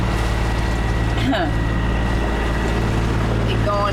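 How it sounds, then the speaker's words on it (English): A sailboat motoring on its only working engine while trying to outrun a squall: a loud, steady low engine drone with wind and water rush throughout, and a voice briefly speaking over it. "So we flashed up our engine, the one that's still working, and we're seeing if we can race away from this squall."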